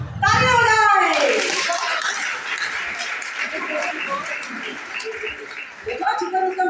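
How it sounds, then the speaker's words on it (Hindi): An audience at a theatre-in-education workshop at a college breaks into applause after a voice speaks, with steady clapping running for several seconds and fading, as a speaker talks over the end. "तालियां हो जाए।"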